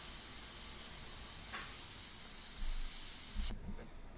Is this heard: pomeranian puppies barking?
no